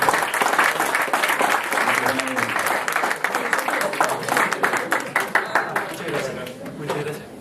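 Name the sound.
audience applause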